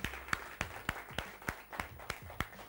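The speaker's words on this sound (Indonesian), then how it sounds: "Berikan tepuk tangan yang meriah dong buat kita semua." A small studio audience at a TV talk show claps in a loose, uneven rhythm, about nine sharp hand claps spread over a couple of seconds, fairly close and not very loud.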